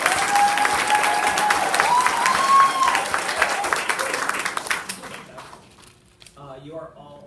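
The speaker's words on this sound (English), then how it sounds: "Let's give Edwin's a round of applause today." Loud audience applause at a school event, a dense burst of clapping with some whistling that slowly fades out over several seconds, followed by a few faint voices.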